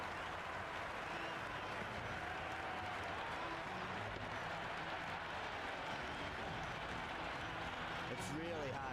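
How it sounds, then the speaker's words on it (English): A stadium crowd in the Cricket 26 video game cheers and applauds steadily throughout a England versus West Indies match, a broad continuous roar of clapping with a commentator talking over it. "The crowd are loving every minute of this match."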